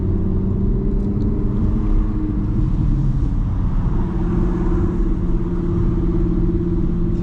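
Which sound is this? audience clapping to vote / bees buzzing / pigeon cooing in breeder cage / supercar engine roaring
supercar engine roaring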